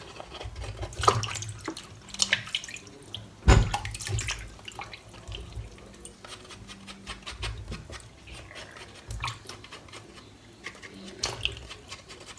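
Tap water runs and splashes while mushrooms are washed by hand, with irregular close splashes and drips, one sharper clatter near the middle, and faint background noise throughout.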